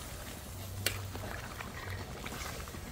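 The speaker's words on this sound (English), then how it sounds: "So I'm using some hot water." Hot water pours into a half-cooked mango curry simmering in a pot on an outdoor fireside chulha, a steady liquid splash and bubbling with a single sharp clink partway through.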